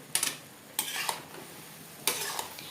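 A few scraping stirs of jujube pickle cooking with jaggery in a pan over a low flame, heard as three separate close strokes against a quiet background with no talking.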